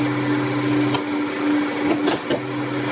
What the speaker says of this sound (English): Curry is now freeze drying